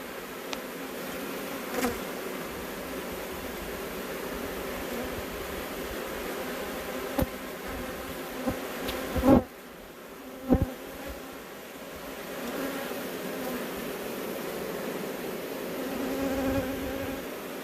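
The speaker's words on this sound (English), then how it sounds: "We're trying to get some bees out of the wall." Continuous droning buzz of many honeybees inside a wall, steady and close, with a few sharp knocks and thumps scattered throughout; no talking.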